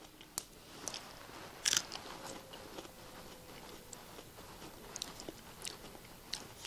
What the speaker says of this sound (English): I'll just snap off the end and eat the pieces left.